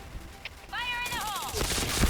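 Gunfire in a team-based online shooter game (PB) comes as a dense broadband crackle of rapid shots through the last half-second, after a loud rising-and-falling whistle-like tone.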